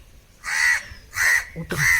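A crow caws three times, loud and close, in short harsh bursts separated by brief pauses.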